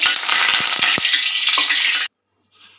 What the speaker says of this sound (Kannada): ಈ ಕರಿಬೇವು ಹಸಿ ಇರೋದ್ರಿಂದ ಸ್ವಲ್ಪ ಸಿಡಿಯುತ್ತೆ.